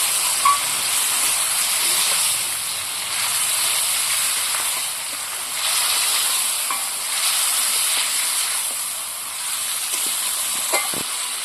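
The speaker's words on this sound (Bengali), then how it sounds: "এবার আমি তেলের মধ্যে মাংসটাকে নেড়ে করে নিচ্ছি এইবার একটু কষিয়ে নিতে হবে ভালো করে" Chicken pieces are stirred in hot oil, producing a loud, continuous hissing sizzle that swells and eases in waves as the meat is turned. A single clink comes near the end, and nobody speaks.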